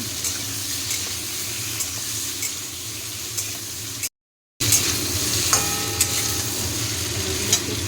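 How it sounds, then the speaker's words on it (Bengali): Potato pieces seasoned with salt and turmeric fry in a pan for a vegetarian cabbage dish, giving a steady close sizzle with light stirring scrapes and a brief moment of silence midway. "প্রথমে আলুগুলো একটু হালকা ভেজে নিচ্ছি, অবশ্যই একটু লবণ আর হলুদ দিয়ে দিলাম"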